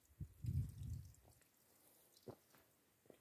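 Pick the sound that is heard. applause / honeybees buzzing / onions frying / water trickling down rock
water trickling down rock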